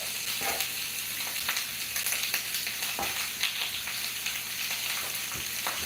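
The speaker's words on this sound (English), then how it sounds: "Let's get some bones started. Look at that. Sizzle, sizzle already." Loud, constant sizzling and crackling of chicken bones frying in a hot pan, with occasional pops and scraping, no voices.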